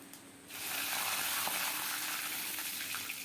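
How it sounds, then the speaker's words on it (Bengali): Whole spices, bay leaf and dried chillies hit hot oil, bursting into a loud sustained sizzle after a brief quieter moment, with a few faint crackles. "এবার আমি দিয়ে দিচ্ছি পাঁচ ফোড়ন তেজপাতা শুকনো লঙ্কা"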